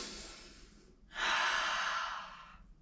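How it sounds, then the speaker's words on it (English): Quiet, close breathing during a guided relaxation exercise: a soft breathy stretch, a short pause, then a longer, stronger airy breath lasting about a second and a half before fading out. "I want you to start breathing in through your mouth, your nose, and out through your mouth."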